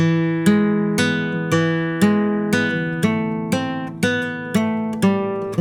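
A bright nylon-string flamenco guitar repeats a short hammer-on pull-off phrase from a Malagueñas study, notes ringing and sliding between pitches in a steady loop; no voice.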